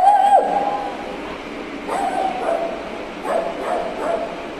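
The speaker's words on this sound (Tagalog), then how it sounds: "Ay, may aso." A dog at a home doorway during a surprise birthday visit gives several high yips and short barks, moderately close, with faint background sounds and no clear talk.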